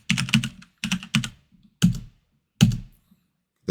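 Computer keyboard keystrokes, including a press of Enter in CAD drafting software, come as loud close clicks in short clusters separated by silent gaps.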